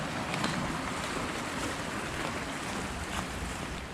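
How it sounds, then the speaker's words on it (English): Steady broadband rush of running creek water along a trail on a deep creek loop hike in Great Smoky Mountains National Park in January, continuous and fairly close, with no talk. "A lot of water."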